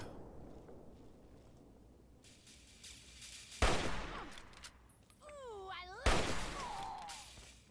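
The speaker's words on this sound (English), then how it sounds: "I'm going to take the chance to just shoot her in the head if I can." Two loud, sharp gunshots ring out a few seconds apart in Fallout 3, each trailing into a noisy decay, with quieter background game sounds and warbling tones between them.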